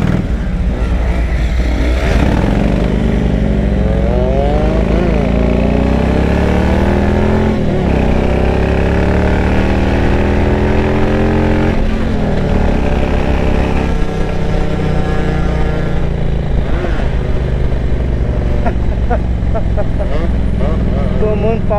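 A motorcycle engine runs steadily throughout, its pitch rising and falling with revs, while a person talks over it.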